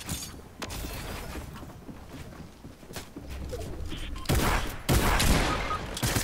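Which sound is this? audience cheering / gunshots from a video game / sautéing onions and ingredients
gunshots from a video game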